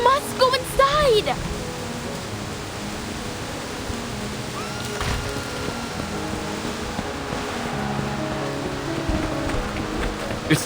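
A tsunami surges in the video game Reverse: 1999 as a broad, steady roar of rushing water over the sea, holding for about ten seconds, with a character voice speaking briefly at the start.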